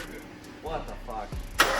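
A Nissan GTR with a suspected vacuum leak and weak battery cranks briefly and catches, with a sharp burst as it fires at the end, under a voice talking close by.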